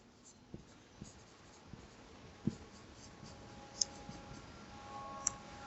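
Pen or marker writing out an algebra expression for a factorisation exercise, a steady faint scratching with a few sharp taps scattered through, close and alone with no talk.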